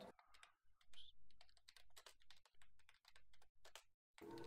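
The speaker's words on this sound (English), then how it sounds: "Typing fucking info in" Someone types steadily on a computer keyboard during a tabletop role-playing game session. The keys give a close, busy clatter of rapid clicks with brief pauses between bursts.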